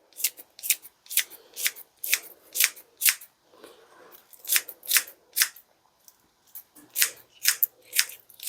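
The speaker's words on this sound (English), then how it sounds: "I do find these little kitchen scissors work really good for doing this." Small kitchen scissors snip repeatedly while preparing a pot roast dinner, sharp close crisp cuts in quick uneven bursts with brief pauses between, no talking.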